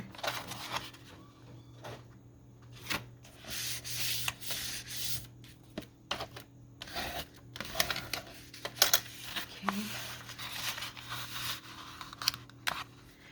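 Paper folded by hand for a cabinet-style craft pocket, soft rubbing and creasing sounds up close with scattered crinkles and small taps, quiet and without talk.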